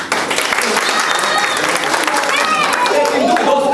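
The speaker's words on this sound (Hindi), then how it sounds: "प्लीज एक बार जोरदार ताली।" Loud, dense clapping from a crowd of guests at a wedding anniversary celebration, sustained throughout with voices and cheers mixed in.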